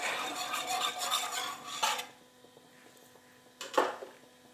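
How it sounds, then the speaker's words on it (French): Wire whisk stirring Marseille soap flakes into water in a pot, giving soft scraping and clinking strokes that are busy at first, pause into near quiet, then return with a brief louder clatter. "Je remue avec un fouet."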